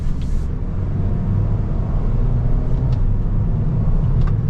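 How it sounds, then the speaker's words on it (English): A 2024 Toyota Corolla XSE sedan pulls away from inside the cabin, with a steady low engine and road rumble droning throughout and no clear gear-change break audible. "All right, so setting off in the Corolla."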